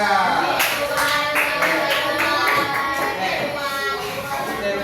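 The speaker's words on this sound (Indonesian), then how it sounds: "Tepuk tangan untuk kelompok 3" Classroom applause for a student group at a primary school lesson, with steady, dense clapping from many young hands close by and voices mixed in throughout.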